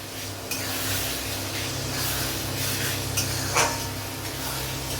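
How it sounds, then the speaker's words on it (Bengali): Spice masala of chili, garlic, ginger, turmeric, sugar and salt sizzles steadily in oil while being stirred for mutton kosha, a continuous close frying hiss with occasional scrape of the spoon against the pan. "এবারে মশলাটাকে ভালো করে কষাতে হবে অনেকক্ষণ ধরে, সময় নিয়ে।"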